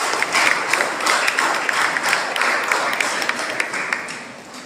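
An audience at an international school award ceremony gives a round of applause, a moderately loud wash of many clapping hands with distinct sharper claps standing out, tapering off near the end.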